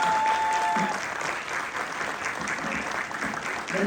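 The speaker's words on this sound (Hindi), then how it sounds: "तालियों में थोड़ी और जान लगाइए।" An audience at an international yoga conference applauds, a dense wash of clapping that is loud at first and then settles to a steady, slightly softer level.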